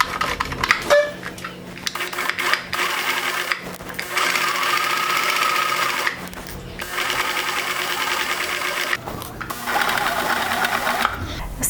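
Sewing machine stitching a dart in fabric, running in steady stretches of several seconds broken by brief pauses, loud and close with no talk.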